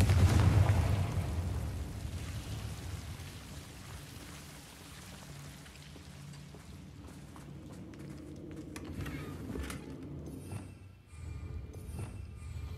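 A Confringo fire spell explodes in Hogwarts Legacy with a loud, low boom right at the start, then fades into steady rumbling game ambience with no talking.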